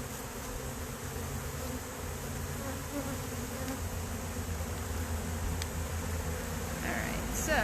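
Honey bees swarm and buzz steadily around a beehive in cold late-winter weather, a dense, continuous hum that stays close and even throughout with no talking.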